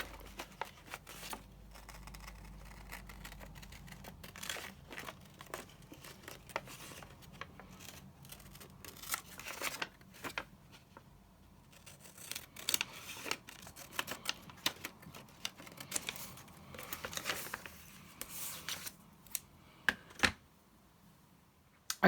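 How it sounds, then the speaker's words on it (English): Scissors cutting paper pages for a handmade Peter Rabbit journal, quiet crisp snips and rustles in uneven bursts, close and alone. "I've cut up all my pages ready to go inside my cover."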